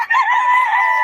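A rooster, one of several fighting stag chickens at a gamefowl gathering, lets out a loud, close crow that holds steady for about a second with no voices over it.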